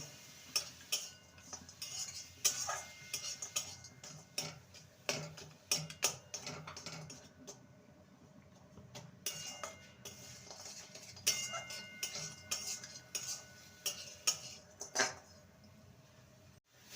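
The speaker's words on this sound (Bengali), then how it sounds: "এটা খেজুর গুড়ের পাটালি ভালো করে নেড়ে নেব আর গুড়টাকে ভালো মতো মেক করে নেব" A spoon stirs date palm jaggery (patali) in a pan, giving irregular scraping and clinking strokes in bursts with brief pauses between them, fairly faint and close.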